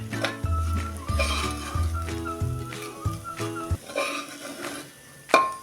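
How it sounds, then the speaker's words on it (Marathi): Homemade masala sautéed over low gas for an eggplant and potato curry, heard as a few scrapes and clinks of a spoon against a pot over a faint sizzle, with a steady tonal hum underneath and a sharp knock near the end. "हे आता थोडा वेळ न करपता असं लो गॅसवर चांगलं परतून घेऊया"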